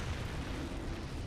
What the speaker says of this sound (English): Ooh, pretty explosions